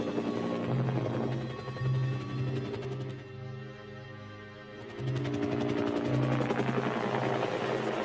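Helicopters fly near navy ships at sea, a close, heavy rotor thump with a rhythmic beating drone that swells, fades for a moment as one passes, then returns loud again.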